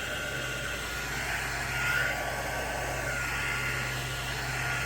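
A hair dryer blows steadily at close range, a constant whooshing hum drying alcohol ink on a resin tray, with no talking.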